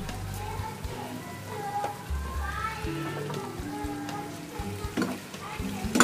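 Sliced okra hits hot oil in a pan and fries with a steady sizzle, while a spoon scrapes and clatters through it in bursts and a few sharp knocks land near the end.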